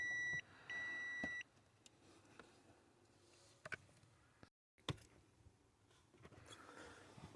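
A multimeter gives two sustained continuity beeps in quick succession while wires on an accelerator pedal position sensor are probed, followed by faint clicks and handling noise.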